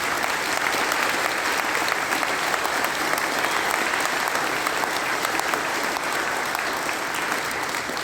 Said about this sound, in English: Let's give town staff a big round of applause.